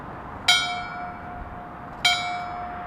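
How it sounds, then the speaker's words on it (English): A memorial bell at a fire department's 9/11 ceremony rings out twice, each bright metallic strike followed by a long ringing decay, clear and fairly close with quiet surroundings. "3 strikes of the bell 3 times actually signifies the passing of a firefighter"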